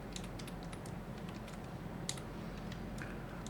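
Code being typed on a computer keyboard: light, quick key clicks in uneven bursts, fairly faint and close over a steady low room hum.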